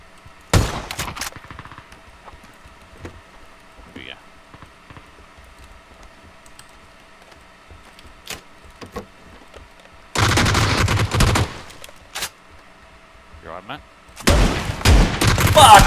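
Gunfire in the battle-royale game PUBG, heard as loud, dense bursts of rapid shots, one short volley near the start and two longer sustained bursts toward the end, separated by quieter stretches with faint clicks.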